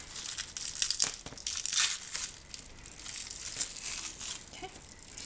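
Plastic wrap is peeled off a cured resin mold, giving close crinkling, crackling rustles in irregular bursts with a few sharper tearing peaks.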